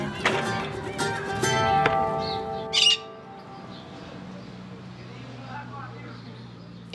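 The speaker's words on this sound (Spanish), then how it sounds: "En primer plano aparece el loro de Manuel." A pet parrot squawks and chirps in harsh, bright bursts, with a sharp squawk near the middle, over a quiet indoor background.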